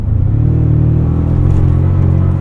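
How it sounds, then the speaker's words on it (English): A steady, low four-cylinder engine drone from a 2024 Toyota Tacoma TRD Pro heard from inside while driving, holding an even rumble with a slight rising strain, with no voices. "I like the way this 4-cylinder sounds."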